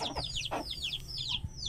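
Heera breed chicken, a male bird, giving a series of short, bright clucks and chirping calls close by, repeated in quick bursts over a low background rumble.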